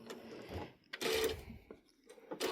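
A home sewing machine stitches through a quilted mug rug in two short close bursts of rapid whirring with a brief pause between, quiet and without talk.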